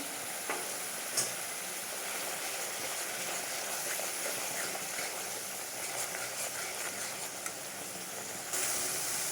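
Spices with Kashmiri chili powder frying in a pan, a soft steady sizzle with occasional scrapes and taps of a spatula as they are stirred.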